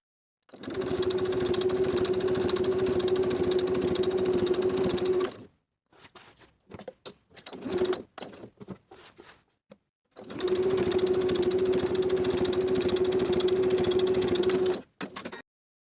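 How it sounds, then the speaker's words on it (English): A sewing machine edge-stitches along the folded edges of a summer jumpsuit bodice opening, running steadily in two long bursts with scattered short stops and fabric handling in between. "Then we can edge stitch along those folded edges straight across the bottom of the opening at the dot"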